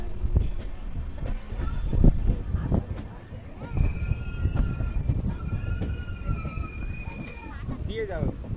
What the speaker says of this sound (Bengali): এই যে বাঁ দিকে লুপ লাইনে প্রবেশ করছে আমাদের ট্রেন